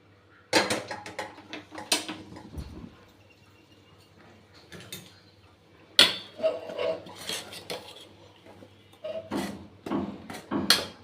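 Rice flour dough for kozhukattai being mixed in a bowl as water is added bit by bit, giving clattering, scraping utensil knocks in irregular bursts with quiet gaps, close and moderately loud.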